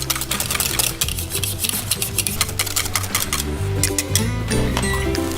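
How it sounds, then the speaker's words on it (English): A metal whisk beats chocolate cream pie filling in a bowl with rapid, continuous clicking and scraping strokes, close and loud throughout. "use a metal whisk"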